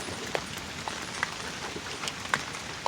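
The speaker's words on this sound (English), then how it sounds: "The rain is just coming from every direction." Rain falling on an uphill homestead yard near a fenced rabbit area, a steady soft patter with scattered louder drips and splashes nearby, moderately quiet and without talk.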